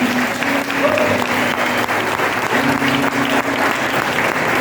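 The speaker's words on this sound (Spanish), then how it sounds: "Denle un fuerte aplauso al Señor por eso." A church congregation claps in sustained, dense applause that holds steady at full volume, with faint tonal sounds from a voice or instrument running beneath it.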